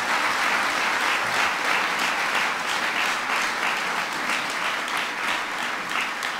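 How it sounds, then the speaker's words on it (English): Steady, dense applause from a large indoor audience at a presidential speech, sustained evenly throughout without voices standing out. "You can give her a round of applause."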